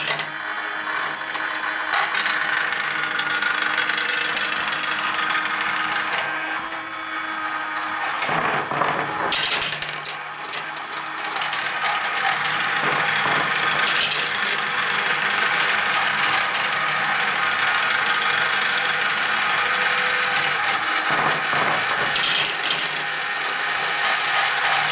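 The motor of a Matchbox Cascade toy game runs continuously with a ratcheting, gear-driven mechanical whir, close and steady throughout, with a few louder clattering bursts near the middle.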